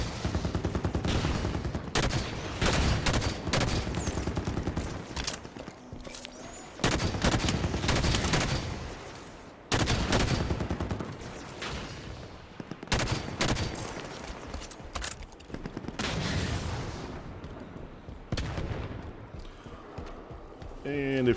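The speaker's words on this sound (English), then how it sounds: "Turrets on and firing." Automated turrets fire in Halo 5: Guardians as loud, rapid bursts of gunfire. The bursts come in repeated volleys with short gaps between them, mixed with other battle noise.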